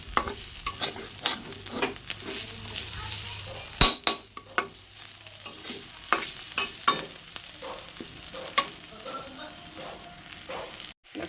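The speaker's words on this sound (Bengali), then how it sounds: "আমার সবজিটা ভাজা হয়ে গেছে" Vegetables sizzle in a wok under a steady hiss while a spatula scrapes and clinks against the pan in irregular strokes.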